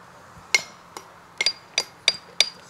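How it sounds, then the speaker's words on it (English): Steel hammer tinks sharply on stone while a dry stone wall at St Mark's is rebuilt. About seven bright, ringing strikes come at an uneven pace, close and clear over a quiet background. "if nobody talked, all you could hear was the tinking of the hammer"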